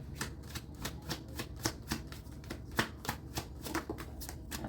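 Tarot cards being shuffled close by, a rapid, continuous riffle of crisp papery flicks and snaps running throughout, moderately loud, with no talk over it.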